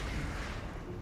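A grenade goes off in a combat video game as a dense, roaring boom that fills the whole brief moment, loud and sustained without a sharp onset, with no voices.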